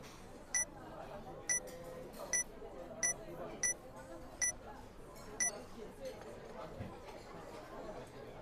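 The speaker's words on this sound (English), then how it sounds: "we can actually figure out what that beeping is" A strange electronic beep from a video game repeats at a steady interval, seven sharp, evenly spaced tones over a faint murmur of background chatter.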